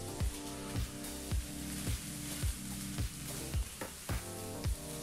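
Mustard-seed tempering for mung bean usli sizzles steadily in a hot pan, a dense crackling hiss with regular recurring pulses and no voices over it.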